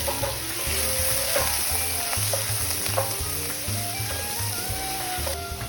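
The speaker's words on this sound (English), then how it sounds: "In the same pan, Reduce to medium heat and add the onions and the garlic" Onions and garlic fry in a pan over medium heat, a steady soft sizzle broken by scrapes and clinks of stirring, close and continuous with no talking.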